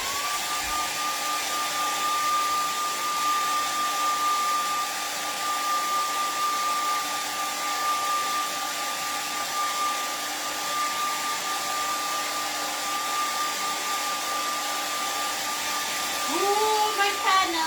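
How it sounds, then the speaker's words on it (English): A hair dryer blows continuously at close range while drying fresh paint on a cardinal painting, a steady whooshing hum with a fixed motor whine that holds unchanged until a brief voice near the end. "you're going to take your hair dryer and dry them off"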